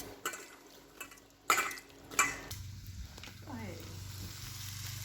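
Freshwater snails frying with onion in a pan on an induction cooker, a soft steady sizzle building after a couple of sharp clanks of a utensil against the pan.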